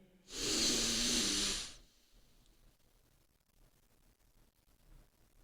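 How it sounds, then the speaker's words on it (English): One long, deep in-breath during a guided breathing exercise: a loud, airy inhalation lasting about a second and a half, followed by near silence. "Now again, deep breath in."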